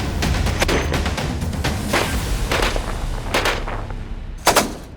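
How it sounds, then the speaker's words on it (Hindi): Indian Coast Guard ship's mounted machine guns firing, rapid loud bursts of gunfire crackling over a steady low rumble, with a sharp louder blast near the end. "ये धमाका और ये गोलियों की तड़तड़ाहट देश के दुश्मनों को थर्राने के लिए काफी है"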